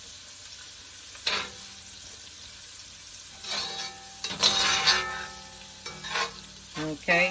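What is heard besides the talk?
onions frying in a pan for curry crab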